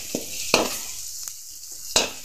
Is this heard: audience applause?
no